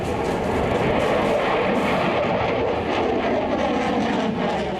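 Continuous loud roar of a Chinese J-20 fighter jet at a Tibetan airbase, a steady broadband engine rush that stays even throughout with no talk.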